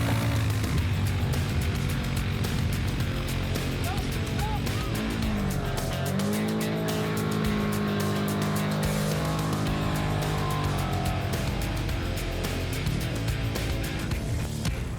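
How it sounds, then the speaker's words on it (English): Polaris quad bike engines rev and drone continuously while pulling small aluminium boats onto soft sand, a steady motor roar with shifting pitch and occasional tire noise, loud and close throughout. "The Polaris quads pull the tinnies up onto the soft sand without much trouble."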